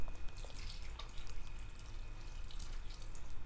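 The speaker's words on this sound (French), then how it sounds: "j'ajoute un peu d'eau." Water runs steadily into a pan on low heat while making homemade cancoillotte, a close, continuous trickling pour with small splashes and no talking.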